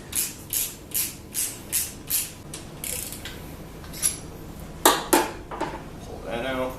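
Pulling an alternator out of a junkyard Camaro engine brings a rapid series of metallic ratchet clicks, about eight in a steady rhythm, followed by scattered clanks and rattles of parts close by.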